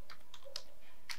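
A few crisp key presses as a short command is typed on a computer keyboard, three or four clicks spread over about a second, close and fairly quiet, with no talking.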